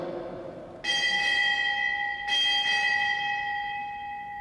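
A ship's bell rings out four times at a US Navy retirement ceremony, struck in two close pairs of clear, ringing tones that hang and decay over a quiet hall.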